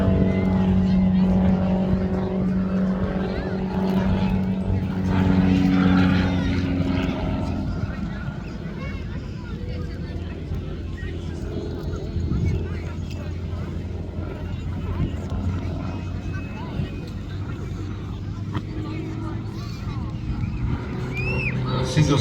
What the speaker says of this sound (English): Now this machine has got quite some performance, even though it's powered by 85 horsepower Jabiru engine.